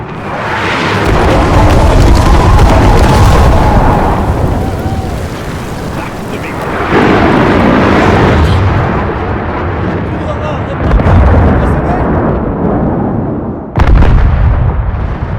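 Artillery strike explosions in the Battlefield 6 video game, a series of loud, heavy booming blasts with rumbling tails that roll on and overlap. Voices speak over the barrage.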